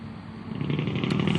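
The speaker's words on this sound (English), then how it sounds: "you hear the truck going by?" A truck rumbles past outdoors, a low, steady engine drone that swells gradually louder over a second or so, heard without any talking.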